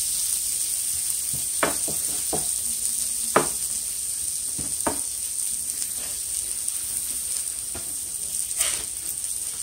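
Steak-umm thin sliced steaks cook in a pan with a steady, faint high sizzle, broken by a few soft scrapes and clicks, close by and without talk.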